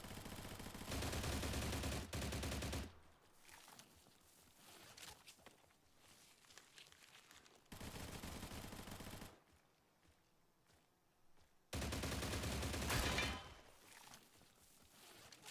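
Automatic gunfire from a gun in STALCRAFT, with three loud sustained bursts separated by quieter gaps of footsteps and faint game ambience.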